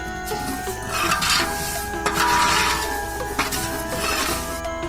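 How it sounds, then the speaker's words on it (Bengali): Mung dal fried and stirred in a large pot over a fixed outdoor stove for chicken khichuri, giving continuous close scraping and rasping with bursts of stirring and occasional clanks. "ড্যাকের মধ্যে ভেজে নেওয়া হচ্ছে মুগ ডাল"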